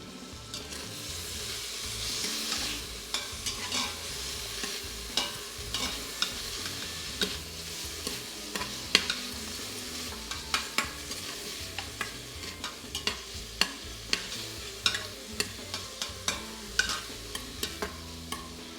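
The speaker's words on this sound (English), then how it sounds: "I've got the saute function turned on, and I'm going to start by adding in" Bacon pieces fry in an Instant Pot on the sauté setting, a soft steady sizzle and crackle with frequent sharp pops and spatula taps throughout, close and without speech.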